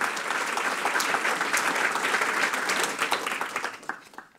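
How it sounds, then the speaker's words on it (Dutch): An audience at a Dutch science lecture breaks into warm applause, dense and steady clapping that swells briefly and then tapers off near the end. "De vloer is aan jou. Applaus."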